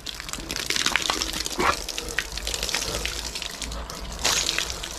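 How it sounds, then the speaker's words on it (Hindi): A Rottweiler laps at water from a running outdoor tap, with a steady gushing splash and bursts of wet slurping, close by, and a voice speaking faintly under it. "देखें पानी पी रहा है जी मैक्स,"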